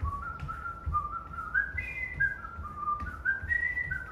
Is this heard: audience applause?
no